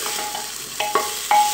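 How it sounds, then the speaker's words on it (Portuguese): Meat seared in a hot pan gives a steady close sizzle and hiss, with a few light clinks and scrapes of a utensil against the pan. "sempre que eu vou cozinhar a carne, eu dou uma seladinha nela"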